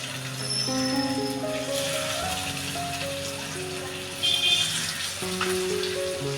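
Sabudana vada frying in shallow oil in a pan, a steady close sizzle with crackle bursts, under a sustained musical tone running throughout.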